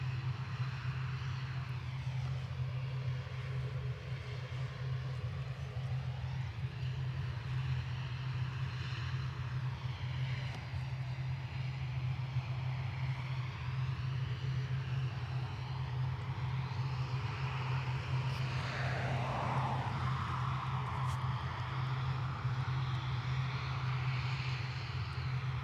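A departing airliner at Dublin Airport bound for Manchester roars steadily throughout, a loud sustained engine drone with a low hum and shifting tonal whine as it climbs away, no voices present.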